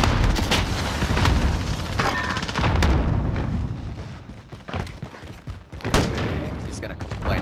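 AK rifle fire in Call of Duty: Modern Warfare rattles in dense, booming bursts with heavy thuds, loud and close, while voices talk over the shooting.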